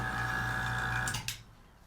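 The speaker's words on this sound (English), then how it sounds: "Go ahead and turn off our vacuum pump." An electric vacuum pump for a shock-absorber suspension setup hums steadily at close range, then cuts off abruptly with a brief hiss as it goes quiet.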